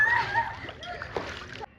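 People wade into water on a girls' trip to Lonavala, with splashing and sloshing close by as voices chatter over it for a couple of seconds.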